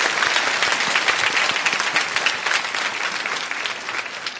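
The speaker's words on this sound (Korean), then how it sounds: "박수를 한번 연주해 주세요." A church congregation at a special early-morning revival service bursts into sustained applause, dense, loud clapping from many people filling the room for several seconds.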